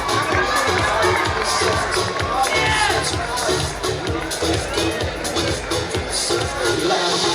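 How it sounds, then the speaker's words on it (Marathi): A large audience at a college annual social gathering claps and cheers loudly and steadily throughout, a dense, continuous wash of crowd noise. "जोरदार टाळ्या होऊ द्या तर."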